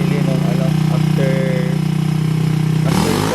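A motorcycle engine runs steadily at idle with a throbbing low rumble close by, while someone talks over it throughout.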